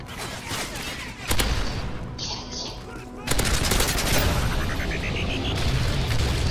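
Rapid video game gunfire from an AR carbine, with bursts of automatic shots that start up sharply after short pauses and rattle on loud and close.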